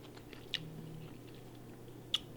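Someone chews a bite of salmon pizza with shallots, giving soft close mouth sounds and two sharp crunches a moment apart.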